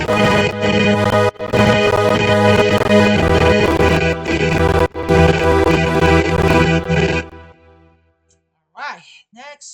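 Dense electronic dance track with a Nicky Romero Kickstart sidechain pumping the layered chords, loud with brief dropouts, then cutting to near silence before a voice speaks.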